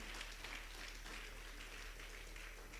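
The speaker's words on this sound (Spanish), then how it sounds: "Si ese aplauso es para el Señor, déselo fuerte." A church congregation applauds in sustained, dense clapping that sounds distant and muffled and holds steady throughout, with no talking heard over it.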